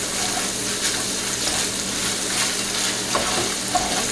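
Hamburger meat fries in a pan with a dense, steady sizzle throughout, loud and close, with occasional faint pops and no talk.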